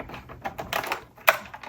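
Scissors snip through plastic packaging around a NECA Jaws 50th anniversary Hooper 7-inch action figure, a few quick close crisp cuts and crinkles with one sharper snap near the end, no talking.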